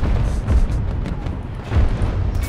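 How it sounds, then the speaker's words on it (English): A deep explosion booms in Battlefield 2042 gameplay, a low rumbling blast with a second heavy surge near the end, loud and close with no talk over it. "We'll see the explosion."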